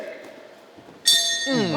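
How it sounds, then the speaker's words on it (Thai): Under a commentator's voice at a boxing match, the round bell strikes and rings out sharply, a bright metallic tone ringing on near the end. "หมดยกครับระฆังดังเลยครับ"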